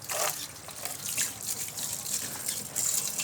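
Water runs and splashes steadily over a muddy rice cooker being washed, with faint dripping and trickling and no talking.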